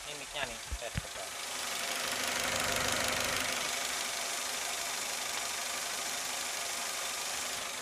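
Toyota Xenia engine idling after worn parts were replaced, recorded up close: a few sharp handling knocks at the start, then a smooth, steady low idle hum that holds evenly and fairly quietly.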